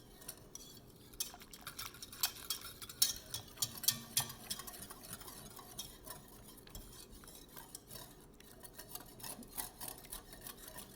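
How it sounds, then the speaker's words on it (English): Butter and flour roux is stirred in a pot for macaroni and cheese, a soft, irregular scraping and clinking of utensil against pot, quiet and close, with sharper taps clustered early and no talking. "as this cooks, it's real important that I keep stirring"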